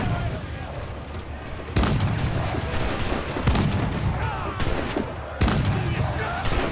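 Shots fired in Assassin's Creed IV: Black Flag, heavy booming cannon-like blasts landing every second or two over a constant loud battle din, with speech mixed in.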